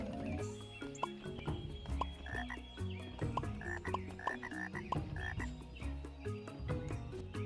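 Frogs croaking in the video game Tumblebugs 2, repeated rhythmic croaks over busy game music and effects, steady and moderately loud, with no talking.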